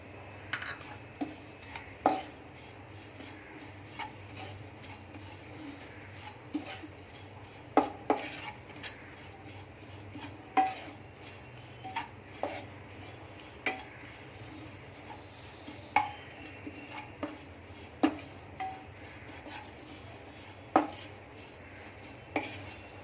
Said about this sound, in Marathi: आता काढून घेऊया आपण खोबरं परतून घेऊ